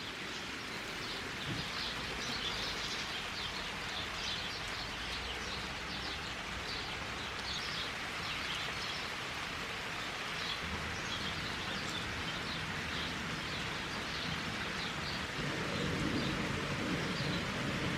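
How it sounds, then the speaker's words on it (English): Steady rain falling outside, heard through open windows as a continuous soft hiss with scattered drips, faint bird chirps mixed in, no talking. "I've left the windows open just because I thought it would be nice for you to be able to hear the rain"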